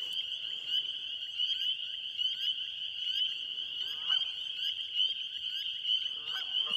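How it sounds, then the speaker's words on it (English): Cranes call faintly in the distance at a marsh at night, their honking cries rising over a dense, continuous high frog trill chorus. "And there's cranes going in the distance."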